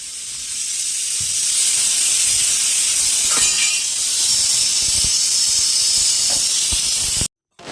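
Steady, loud steam hisses from a pot of boiling chickpeas on a home kitchen stove, continuous for several seconds before cutting off abruptly.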